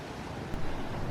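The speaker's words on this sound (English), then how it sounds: "here's the froth against the waves" Ocean surf rolls onto the beach at San Clemente, California, a soft, steady wash of frothing waves mixed with wind noise, fairly quiet and without voices.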